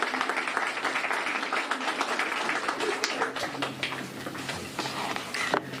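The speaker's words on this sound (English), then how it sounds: "Please welcome her with a hand clap." Audience applause at a press announcement, with dense, steady clapping that fills the room, loud and sustained before tapering slightly near the end.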